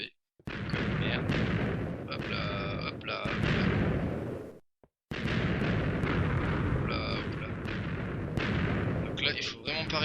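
Video game TNT blasts go off in a dense run of loud, close booms and rumbling crackle, broken by two short silences, with faint voice-like tones in places.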